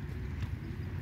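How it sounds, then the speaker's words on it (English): Hooves of a horse pulling a family carriage ride clop steadily in an Abu Dhabi park, faint and distant beneath broad outdoor crowd murmur and low rumble. "And there's one horse carriage family ride over there."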